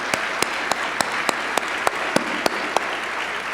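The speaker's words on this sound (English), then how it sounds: "an incredible round of applause for our sponsors." Dense audience applause for sponsors at an awards ceremony and luncheon, sustained and even, with several sharp individual claps standing out at regular intervals.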